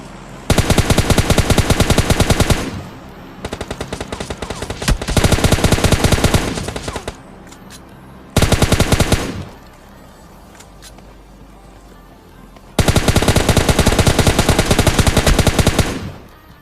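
Gunfire in a PUBG-style battle royale game: long, loud, rapid automatic bursts several seconds each, separated by short pauses and a quieter stretch in the middle, with no talking.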